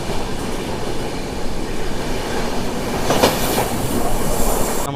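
Tamil Nadu Express train running on rails, a steady loud rumble of wheels and carriages with a brief metallic squeal about two thirds of the way through, no voices.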